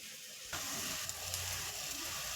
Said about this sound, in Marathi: हे बघा आपल्या मसाल्याला आता तेल सुटलं आहे